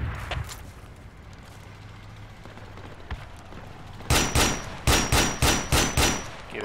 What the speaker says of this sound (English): It's definitely them firing.